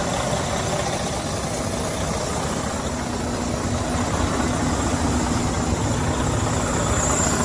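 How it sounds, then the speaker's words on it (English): A 2012 Freightliner Cascadia 125 diesel truck engine idles steadily, a loud continuous rumble with no change in pace throughout. "Engine is running excellent."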